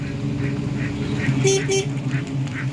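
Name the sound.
ducks quacking on a duck farm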